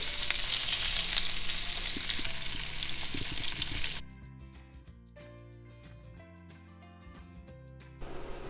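Salmon pieces fry in butter in a pan, a loud dense sizzle for about four seconds, then quieter crackling and faint scraping as the pieces are turned, with the sizzle swelling again at the end.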